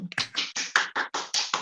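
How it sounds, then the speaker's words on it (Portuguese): A short burst of hand clapping, about eight distinct, evenly spaced claps, close and crisp, with no talking. "Palmas para nós, por favor."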